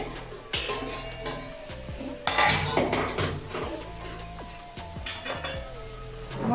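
A metal spatula clanks and scrapes against a cooking pot while stirring spinach and cooked vegetables, giving irregular sharp clinks and scraping strokes that come in uneven bursts.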